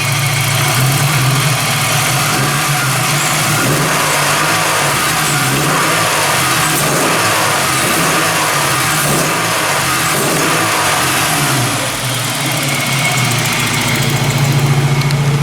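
A Volkswagen Golf Mk3 with freshly set ignition timing is revved repeatedly, the engine loud and close, rising and falling in rhythmic throttle blips over a steady idle, with no talking.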